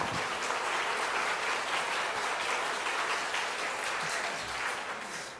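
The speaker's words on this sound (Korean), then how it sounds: "다시 한번 하나님께 감사와 영광의 박수를 올려드립시다" A Korean church congregation at Seowoo Church claps steadily and densely, sustaining a full, even wash of applause for over five seconds, with no one speaking over it.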